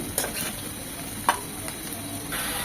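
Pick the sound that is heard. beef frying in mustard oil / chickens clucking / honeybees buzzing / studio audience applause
beef frying in mustard oil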